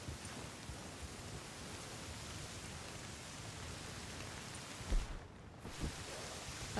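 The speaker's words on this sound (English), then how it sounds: "Whoa, it's stormy as hell." Heavy rain pours steadily during a storm in the Red Dead Redemption 2 video game, a dense, even hiss with a couple of faint low rumbles and no talk.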